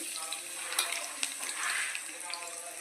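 Mustard seeds, cumin and garlic frying in hot oil for dal tadka, a close, moderate sizzle with scattered pops and crackles, and faint traces of a voice in the background.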